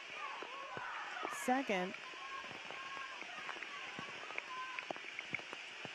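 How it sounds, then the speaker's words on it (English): Heavy rain pours down steadily on an open football ground during a women's under-20 international match, a constant hiss under a commentator's talk and a brief whistle. "And you can see the rain coming down harder than it was."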